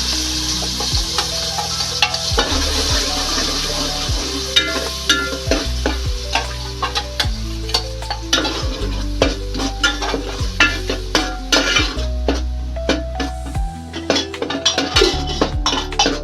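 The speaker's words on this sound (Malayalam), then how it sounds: "ഇനി നമുക്കതിൽ ചതച്ച് വെച്ചിരിക്കുന്ന കൈതച്ചക്ക ചേർത്ത് കൊടുക്കാം." Crushed pineapple stirred in a pan while making pineapple payasam: a loud, continuous run of quick scraping and clinking strokes of a spoon against the pan, over a steady sizzle.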